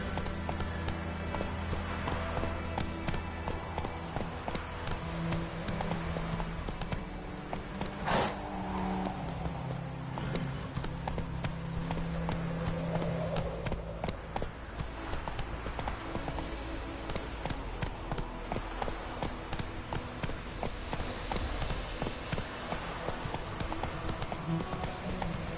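Hoofbeats of Geralt's horse Roach in The Witcher 3, a steady clip-clop running close and loud for the whole stretch over game music and ambience, with a brief spoken command from the rider.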